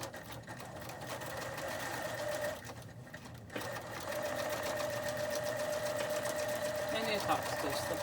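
A sewing machine runs continuously, top-stitching the bottom edge of a fabric face mask casing, with a brief pause before the steady stitching rumble resumes and grows slightly louder.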